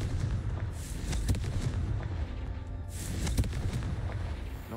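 Confringo blasting spell explosions in a Hogwarts video game, two loud bursts a couple of seconds apart over rumbling ambience, no talking.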